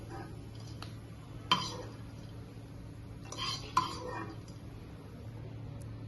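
Fried roasted gram being tipped into a bowl gives a couple of sharp metallic clinks and a brief rattling pour over a low kitchen hum.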